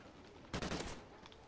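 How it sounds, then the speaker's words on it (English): Short burst of gunfire from a burst-fire weapon in Call of Duty Ghosts, a dense, compact volley lasting about half a second amid quiet game ambience, with no talk. "This is a burst gun?"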